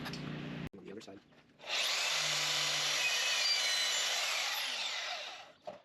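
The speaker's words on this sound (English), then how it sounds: "Pretty nice bandsaw." Pawn-shop bandsaw starting up after a few knocks and a brief low hum, then running with a steady bright whir for several seconds before winding down.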